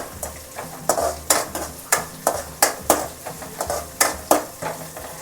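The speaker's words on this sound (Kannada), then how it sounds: "ಇವಾಗ ಸ್ವಲ್ಪ ಎಲ್ಲ ಫ್ರೈ ಆಗಲಿ" Three slit green chillies with curry leaves frying in a pan, rhythmic scraping stirs of a spatula repeating about every half second over a steady sizzle, close and clear with no talking.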